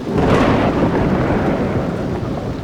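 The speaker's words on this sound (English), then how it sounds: "Come on, it's just a little rain." Heavy rain and thunder from an animated web series of llamas in hats: a loud, dense, steady roar with deep rumbling that fills the whole stretch without a break. No voices are heard.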